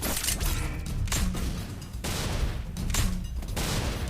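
Heavy gunfire in the Free Fire battle royale game: dense, continuous bursts of rapid shots with brief gaps, loud and close throughout, with no voices.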